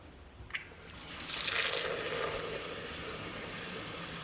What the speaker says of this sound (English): And turn on the water.